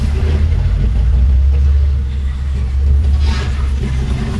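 Steady low rumble of heavy road traffic, with cars and engines passing continuously and loudly nearby on a congested street in Tibungko.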